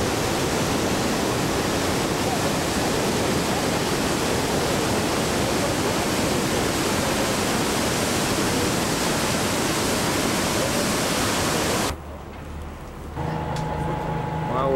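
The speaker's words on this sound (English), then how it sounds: "We're approaching a waterfall here out in the rainforest" Steady, loud roar of a waterfall in the rainforest, dense and continuous for most of the clip before cutting abruptly to a quieter scene with faint tones.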